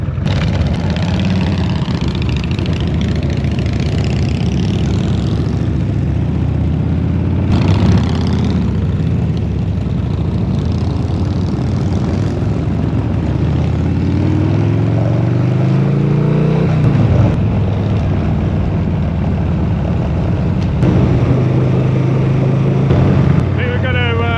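Harley-Davidson motorcycle engine running on a ride through the Peak District, a steady loud rumble with shifting revs and wind buffeting, occasionally popping from backfires, with a person talking over it.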